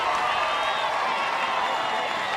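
A softball stadium crowd at a college softball quarterfinal between Kansas and Oklahoma roars after a base hit to right field, a dense, sustained wash of cheering and clapping that holds steady and loud throughout.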